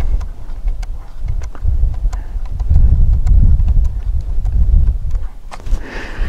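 The gas adjustment on a KelTec RDB rifle is turned in a series of sharp, close clicks spaced roughly evenly, against loud rumbling wind noise outdoors.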